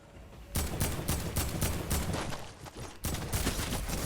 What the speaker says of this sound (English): Spamming them fucking grenades. Spam that grenade button.